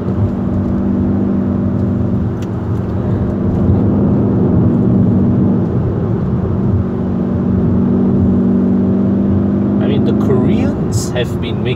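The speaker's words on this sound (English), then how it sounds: "Listen to the sound of that engine. I mean, a Kia Optima sounding like this." Kia Optima GT car driving on a mountain road, its engine droning loudly and steadily from inside the cabin with a low hum that holds throughout, a brief rattle near the end.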